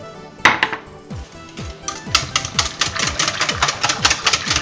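A whisk beats blood-warm milk into a custard egg mixture in a bowl, making rapid, rhythmic metallic clicks and taps that grow steadier and busier, close and fairly loud.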